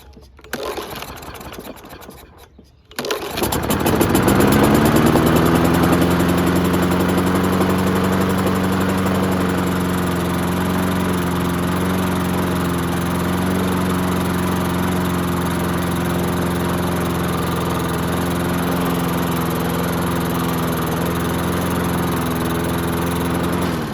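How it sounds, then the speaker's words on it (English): A LawnBoy AWD mower with a Kohler 149cc engine starts after a brief sputter, then chugs and climbs slowly toward speed before settling into a loud, steady running drone close by. "it would start up, but it would kind of chug and then come up to RPMs really slow"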